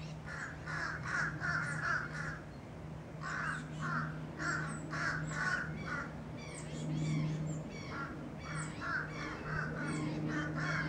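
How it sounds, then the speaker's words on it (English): Crows mob an owl perched in daylight, harsh caws repeating in quick bursts from several birds at moderate distance, overlapping throughout with a steady low hum beneath and no speech. "All the birds are going after this owl."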